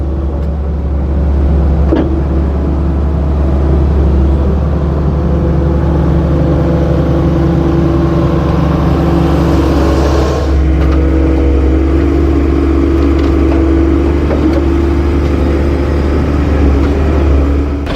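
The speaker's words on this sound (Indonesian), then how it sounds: "Nah, nampak satu unit dump truck yang mengantarkan tanah-tanah untuk menimbun sisi luar dari seed pile ini." A dump truck delivers soil at a construction site, its engine a loud, steady rumble running throughout with no speech.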